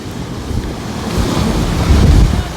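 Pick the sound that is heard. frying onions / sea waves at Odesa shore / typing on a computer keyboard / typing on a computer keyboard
sea waves at Odesa shore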